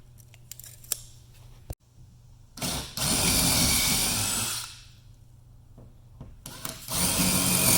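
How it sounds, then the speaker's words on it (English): Power drill with a 3/16-inch bit drilling holes in a bed case, in short runs: a whirring drill spins up for a couple of seconds, stops, then starts again, with clicks between. "You will use a 3/16" bit to drill these holes."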